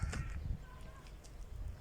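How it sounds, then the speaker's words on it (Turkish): Outdoor birdsong in a wooded area of the Meram vineyards, Konya, with a few crow-like caws in the mid-distance over a low rumble of ambient noise. "Ve kuş sesleri gerçekten çok keyif verici."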